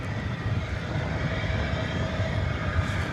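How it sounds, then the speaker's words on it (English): A Boeing 787-9 Dreamliner jet gives off a steady, loud broadband engine roar with deep low rumble, holding even for the whole moment. "787-9 Dreamliner"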